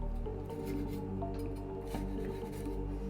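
A knife cuts soft kolache dough in a few quiet, squishy strokes over a steady low background hum, close by and with no talking.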